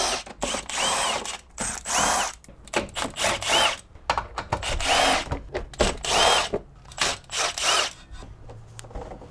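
A power tool whirs in short, loud, repeated bursts while removing bolts from the bumper of a BMW E90 during an oil cooler retrofit. The bursts are close and separated by brief ratcheting and clanking gaps.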